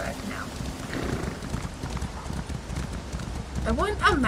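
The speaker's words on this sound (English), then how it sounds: "I guess I can have my horse back now." Horse mount hooves clip-clopping in the Elder Scrolls Online game, a steady muffled gait under background game ambience with a brief whinny-like sound near the end, while someone talks over it.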